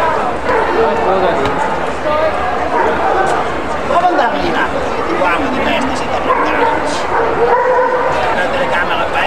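Dogs bark and yip repeatedly at a Dobermann show, the Golden Dobermann 2009 champion class for black males, amid a busy crowd with people talking throughout.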